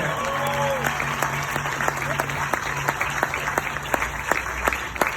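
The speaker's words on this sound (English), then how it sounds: "Give everybody up here some more applause" Crowd applause at an outdoor Music City Walk of Fame induction ceremony in Nashville, a steady wash of clapping with scattered sharp claps, and a voice briefly heard near the start.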